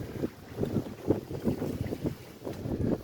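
A 2021 Bentley Cruise 220 pontoon boat powered by a Suzuki 140 outboard, running on open water with a steady low engine drone, wind buffeting the microphone and rhythmic hull thumps from passing chop.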